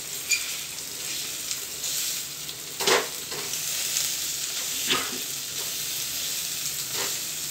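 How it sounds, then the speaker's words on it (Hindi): Boiled potatoes frying with half-browned onions in a pan while being mashed, a steady close sizzle throughout with a few soft scraping and pressing thumps from the mashing. "अब इसमें आप ये आलू डाल दीजिए, आलू डालकर इससे आप इसको ऐसे कूट दीजिए इसी प्याज में।"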